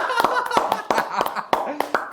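A small group claps hands in a quick, uneven burst of sharp slaps, mixed with talking and a bit of laughter close by.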